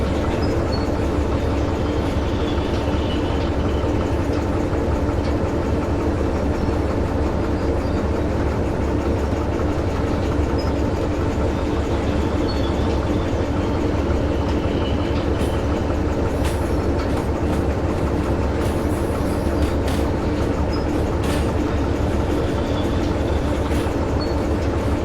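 Train wheels rolling steadily on rails in the Derail Valley railway game, a continuous loud rumble with faint clicks and clatter over about twenty-five seconds, no voices.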